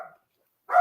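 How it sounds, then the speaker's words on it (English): A pet dog gives two short, muffled barks from a room nearby, one at the start and one at the end, separated by a brief silence. "My dog wants to be on the podcast too."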